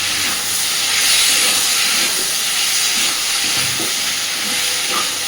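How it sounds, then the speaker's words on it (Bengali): A loud, steady hiss of mustard and poppy seed paste frying with softened tomatoes in a pan, swelling slightly at moments. It stays continuous and close, with no voices. "এইবার আমি এর মধ্যে দিয়ে দিচ্ছি একটু সর্ষে আর পোস্ত একসাথে বাটা।"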